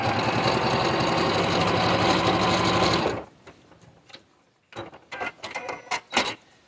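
A sewing machine stitches a quilt seam in a steady, fast mechanical whir for about three seconds and then stops, followed by a few light clicks and handling noises.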